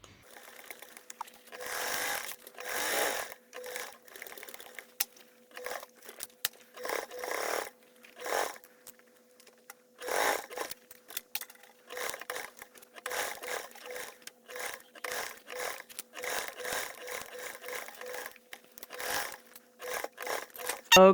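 A home sewing machine basts a fabric panel for a multi-compartment bag, with a 1/8 seam allowance. Stitching comes in short bursts of rapid, steady whirring, near and fairly loud, separated by brief pauses across the stretch, with no talking.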